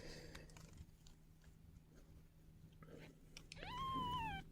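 A kitten yells near the end with a loud, rising then falling cry, after a stretch of faint rustling and soft chewing-like sounds.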